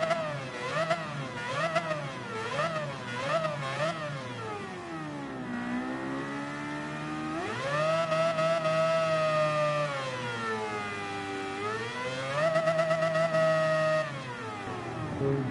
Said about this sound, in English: You gotta love the sound of the 787B, baby.